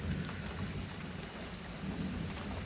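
Heavy rain pours steadily during a thunderstorm, a dense hiss of drops on surfaces with low rumbling thunder underneath, constant and fairly distant throughout.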